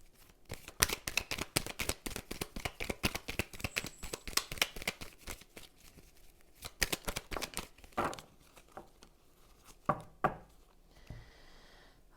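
A deck of cards is shuffled and cut on a table in a rapid series of sharp riffling clicks and slaps, followed by a few slower, separate snaps and a brief rustle, all close and with no talking.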